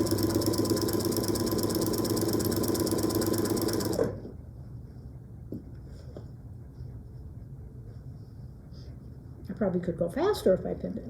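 Sewing machine stitching faux piping binding on a quilting project runs loud and steady for about four seconds, then stops. A person talks softly afterward.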